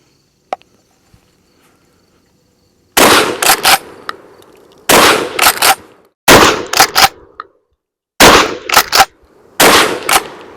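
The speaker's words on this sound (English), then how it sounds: "So far, shotgun shoots very nice." Charles Daly Field Maxi-Mag 12 gauge 3 1/2 inch shotgun firing magnum loads outdoors, five loud booming blasts each followed by quick mechanical clatter, spaced roughly two seconds apart after a short quiet lead-in.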